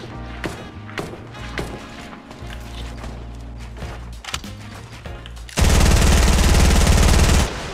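Rapid automatic gunfire crackles through a Fortnite Battle Royale match, with scattered bursts giving way to a loud, continuous spray of shots near the end.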